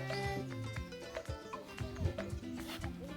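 Village cattle move about close by, with soft irregular hoof thuds and low grunting tones, a few short bursts of animal noise in a quiet outdoor setting.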